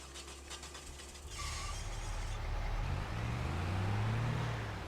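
Truck engine in Farming Simulator 25 revving up and pulling away, a steady low rumble that swells in loudness as it drives off, with a brief hiss near the start.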